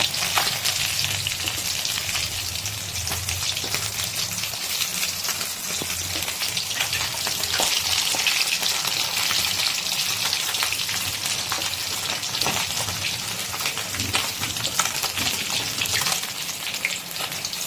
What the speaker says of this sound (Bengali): তো দেখুন বন্ধুরা, এখানে মাছটাকে উল্টে পাল্টে দিচ্ছি।